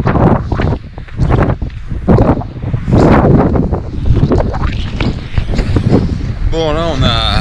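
Strong gusts roar across the microphone during a trail running race in the hills, loud buffeting wind noise that rises and falls continuously, with a runner's voice speaking briefly near the end.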